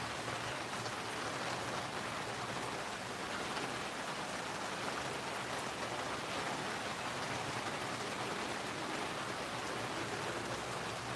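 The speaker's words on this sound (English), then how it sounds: "I can see rain outside there, but I can't see it in here." Rain falling steadily on a canvas awning at a campsite, a dense even hiss of drops that stays constant and fairly soft throughout, with no voices.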